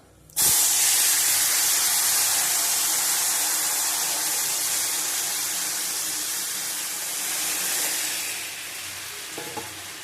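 Lentils hitting a hot oil tempering of cumin and bay leaf, a sudden loud hissing burst that settles into a steady close sizzle, then fades, with a few stirring knocks at the very end.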